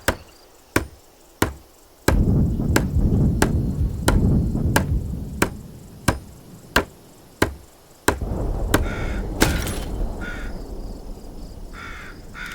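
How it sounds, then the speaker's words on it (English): Steady hammer strikes building a barricade in a game tutorial, about a dozen sharp evenly spaced knocks, loud and close, with a brief metallic build effect near the end. "Use the hammer in your loadout to finish constructing it"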